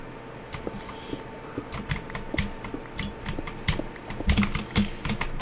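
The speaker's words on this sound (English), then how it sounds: "I can hear every single mouse click" Rapid, uneven clicking from a computer mouse and keyboard during a Minecraft building session, many close, crisp clicks in irregular bursts over a low steady hum.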